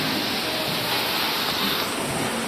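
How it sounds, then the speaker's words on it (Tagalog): Steady rain falls outdoors at a car meet, a dense, continuous hiss that fills the whole stretch at constant loudness with no other sounds rising above it. "kami inaabot na ng ulan din eh"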